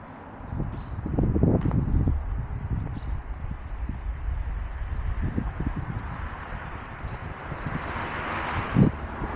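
Cold spring wind gusts across an outdoor street in Buffalo, New York, lined with blooming trees, as a steady broadband rush that swells near the start and keeps buffeting the microphone throughout.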